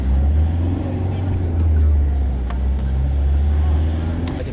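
Steady road traffic from inside a car on the way to a beach day, a loud continuous low engine and tyre rumble with gentle swells, no talk over it.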